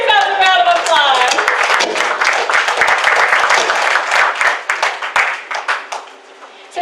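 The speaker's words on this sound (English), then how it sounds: "Give yourselves a round of applause." Clapping and cheers from an audience at a women-in-magic show break out loudly over a brief vocal sound at the start, then thin into scattered claps that fade out.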